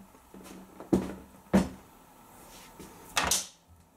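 A wooden door being lifted out of its frame gives a few sharp knocks and clunks with a brief creaking scrape near the end, close and fairly loud with quiet gaps between.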